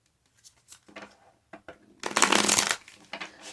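A deck of tarot cards is handled with a few soft taps and shuffles, then a loud, close riffle lasting under a second, followed by quieter card handling.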